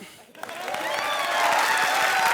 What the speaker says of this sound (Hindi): चलो जोर से ताली बजाओ।